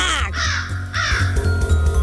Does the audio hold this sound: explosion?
no